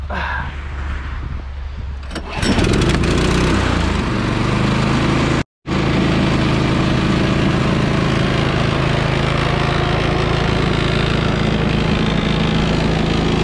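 A Predator 212cc engine swapped onto a single-stage snow blower pulls over and fires, then settles into a loud, steady close-up running drone after a brief dropout.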